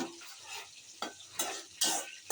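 Greens with shrimp, onion and cumin are stirred in a frying pan, with several sharp scraping strokes over a light sizzle, each stroke a brief burst of utensil against pan, close and with no talking.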